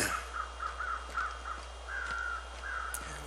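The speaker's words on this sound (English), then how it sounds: "Crows are circling something up there." Crows caw repeatedly in The Long Dark, a survival video game, their harsh calls coming in a steady series of bursts over a quiet outdoor wind bed, moderately near and alone with no talk.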